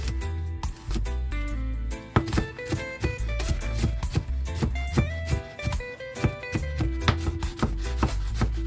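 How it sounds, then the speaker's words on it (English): Knife chopping garlic on a cutting board while cooking Jamaican salt mackerel, with quick, steady, close taps mixed with rubbing and scraping noises. "I'm cutting my garlic"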